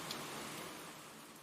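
Faint rain ambience hisses as a steady, even wash of broadband noise with no distinct drops, soft and continuous throughout.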